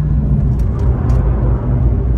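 Race car engine on the Spa circuit, a loud steady low rumble and drone held close throughout with no pauses or talk.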